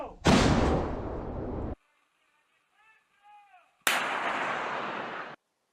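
Two heavy Russian artillery blasts roar out loud and close with long rumbling tails, separated by a short pause in which faint whistling tones are heard.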